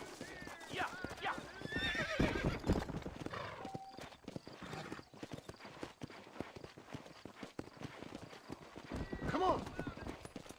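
A horse in the Red Dead Redemption video game gallops with rapid, steady clip-clop hoofbeats, letting out loud whinnies near the start and again near the end, while a voice speaks over the riding.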